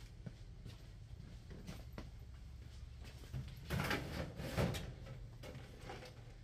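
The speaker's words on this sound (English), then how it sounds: "I'll look through the drawers real quick," Drawers of a heavy glass table sliding open and shut and being rummaged through, a series of faint scrapes and knocks that grow louder toward the end, with no speech.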